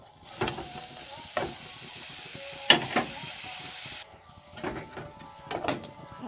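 Chopped mustard greens stirred and fried in a pan, with a soft sizzle under intermittent scraping and clattering strokes of the spatula, fairly quiet and close.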